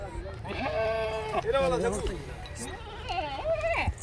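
Kamori goats bleat close by on a goat farm in Dera Ghazi Khan, a long wavering cry followed by several more bleats, while someone talks over them.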